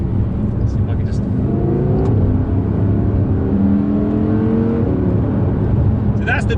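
An Audi R8 RWD supercar accelerates on the throttle, a steady loud engine roar with rising and falling tones heard from inside the car, with a voice talking over it.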